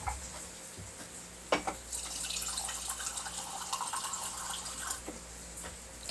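Warm water pours steadily into a container with a close, bright, splashing flow. A knock or clink sounds near the start, and no one speaks.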